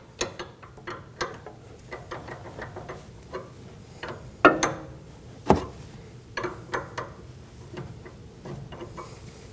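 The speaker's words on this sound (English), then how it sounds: "We can start to work the nut loose from the inner tie rod." A wrench works loose the inner tie rod nut on a 2016-2022 Honda Pilot steering rack, producing scattered metallic clicks and ratcheting ticks, some louder knocks, heard close and faint with no voices.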